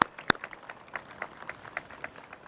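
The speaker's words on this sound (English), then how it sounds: "This gives them a big round of applause." Audience at an outdoor time capsule ceremony giving a round of applause, scattered individual claps over a thin bed of clapping, one sharp loud clap near the start, then a fairly sparse, moderate patter.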